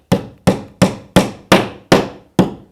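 A hammer driving a nail into drywall, seven sharp evenly spaced strikes in close succession, loud and near with a short ring after each blow, no voices.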